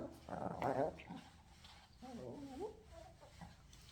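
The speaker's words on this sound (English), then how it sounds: "She's yawning, she's growling, she's lifting her lips." A dog resisting grooming on its front legs lets out a low growl and whiny, whimpering vocalizations, close and moderately loud, in short bursts over a few seconds.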